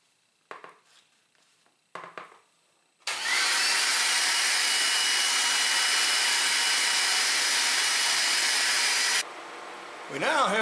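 A bench grinder roughs out a kitchen knife handle, a loud sustained whirring grind of about six seconds. A few brief clanks come before it, and a rising spin-up or change in tone follows.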